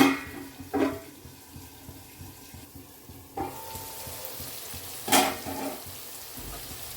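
Young pointed gourd halves fry in oil in a pan, giving a steady low sizzle broken by a few louder scraping stirs near the start and middle.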